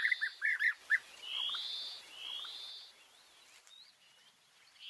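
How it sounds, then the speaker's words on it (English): Wild bee-eaters give a quick run of bright chirps up close, then longer thin whistling calls that fade out, heard alone with no voices. "This beautiful bird, found in different continents, with unique plumage and distinct colors."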